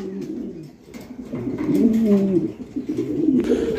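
Fancy pigeons kept for sale cooing close by, a pair of overlapping low, throaty rolling coos repeating in bursts without pause, heard alone with no talking.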